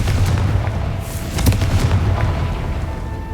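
A Confringo fire spell in Hogwarts Legacy goes off as a loud, dense, rumbling blast with crackling bursts that roll on for a few seconds under game sound.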